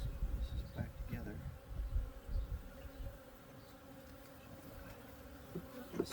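Bees buzz around an opened backyard apiary hive in late March, a soft continuous hum with bees drifting close and away, over intermittent low thumps of hive handling.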